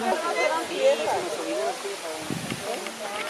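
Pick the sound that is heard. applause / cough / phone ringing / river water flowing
river water flowing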